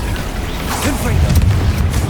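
A Confringo explosive spell in the video game Hogwarts Legacy: a brief, deep boom bursts out amid ongoing rumbling game noise.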